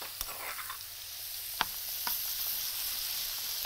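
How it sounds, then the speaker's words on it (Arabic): Garlic frying in a pan, a soft steady sizzle with a few sharp utensil clicks and scrapes, close and fairly quiet, with no talking. "اذا بنحمر الثوم اهو"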